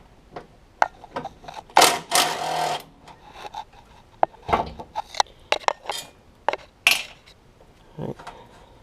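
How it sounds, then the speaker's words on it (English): Wrench clicks and metallic rattles as two 12 mm bolts are loosened on the battery bracket of a Honda Civic FA5 Mugen Si, coming in irregular close bursts with quiet gaps and no talk. "It's currently bolted down with 2 12 mils if I'm not mistaken. So go ahead and loosen these."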